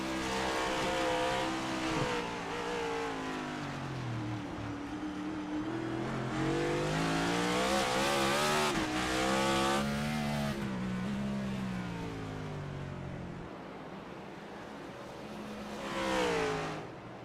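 Race cars run on a Chicago street course in a racing game, engines droning and rising in pitch through gear changes as a pack passes close, then fading and swelling again near the end.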